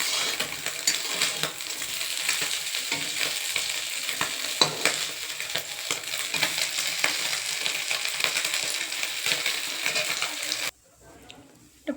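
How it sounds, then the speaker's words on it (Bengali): Fish sizzle and crackle in hot oil in a pan, a loud, steady frying hiss with faint stirring clatter, cutting off near the end to a quieter kitchen background. "ভাজা হচ্ছে।"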